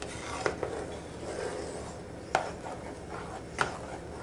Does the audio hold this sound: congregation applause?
no